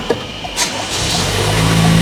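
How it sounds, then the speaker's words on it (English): A Toyota car engine cranks and catches, then settles into a steady idle that grows slightly louder. "We can now test this virtual key to see if it starts the car."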